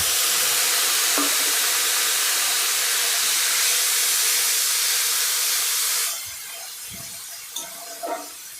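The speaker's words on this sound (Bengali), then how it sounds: "অল্প অল্প জল দিয়ে মশলাটা কষিয়ে নিতে হবে।" Spice paste for a Bengali egg curry sautéing with splashes of water, a loud, steady steaming hiss that drops abruptly about two-thirds through to a softer sizzle with a few light clicks of a utensil.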